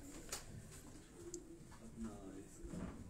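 Soft coos from a young rooftop pigeon murmur at low pitch in short repeated phrases, fairly close, with faint background noise and a few light sounds overhead.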